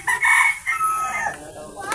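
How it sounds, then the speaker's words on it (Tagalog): A rooster crows loudly and close by in a short burst at a family home, with faint voices in the background. "Ngayon ang manok, oh."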